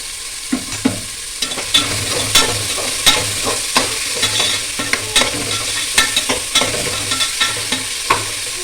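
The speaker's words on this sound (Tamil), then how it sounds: "2 உப்பு போட்டு கிளறிக்கிறேன்" Onions with salt sizzle in a frying pan while a spoon stirs them, giving a close, loud, continuous fry broken by frequent sharp scraping clicks of stirring.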